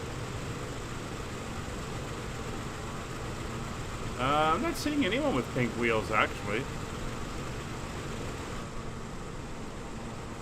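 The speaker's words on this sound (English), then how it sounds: "you guys running your engines is really noisy out here" DC-6 piston aircraft engines from a flight simulator drone steadily throughout as a broad, constant rumble, with a voice talking briefly over it midway.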